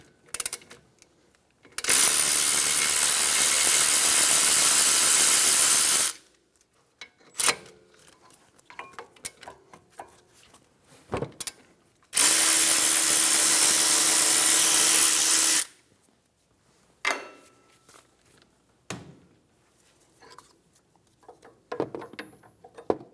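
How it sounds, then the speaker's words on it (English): Caliper bolts on a 2013-2017 Honda Accord being undone with a 14mm socket, two long loud bursts of a power driver, each several seconds, separated by quieter clicks and metal handling noises. "Using a 14mm socket, remove the caliper bolts"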